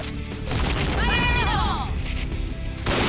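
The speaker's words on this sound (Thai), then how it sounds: "ระเบิดมาอีกแล้ว" In-game explosion from the shooter Point Blank, a single blast under continuous chatter from the player, with a brief whistling, sweeping tone in the middle of the clip.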